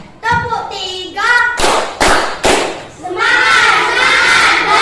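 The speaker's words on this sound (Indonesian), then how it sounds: "Tepuk satu, tepuk dua, tepuk tiga." Schoolchildren in a classroom doing a rhythmic clapping chant, with sung counting lines between sharp bursts of group claps, then voices chanting together near and loud.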